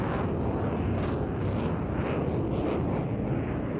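Fighter jet with fly-by-wire controls taking off and climbing straight up into the vertical at the Royal International Air Tattoo, RAF Fairford; a steady, loud, broadband engine roar that stays continuous throughout with no voices.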